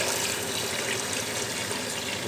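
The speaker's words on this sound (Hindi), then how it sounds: "ये देखें इसमें हम डालेंगे पानी।" Water pours steadily into a cooking pot for pea pilau, a continuous splashing rush, close by and fairly loud, with no talking.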